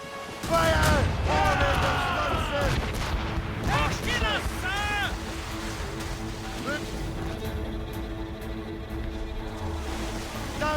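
Ship cannons boom in a naval battle in Assassin's Creed Rogue, with heavy blasts over rushing ocean waves and creaking sails, while crew voices shout commands throughout.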